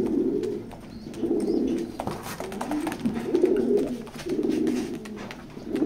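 A pair of racing pigeons cooing nearby, five rhythmic bursts of low, throaty coos separated by short pauses, with faint clatter between them.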